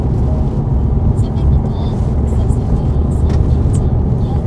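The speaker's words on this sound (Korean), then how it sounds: "여기 이렇게 담프트럭도 많이 다닙니다." A dump truck rolls along a narrow rural local road, giving a steady, loud low rumble that holds through the whole stretch with no clear rise or fade.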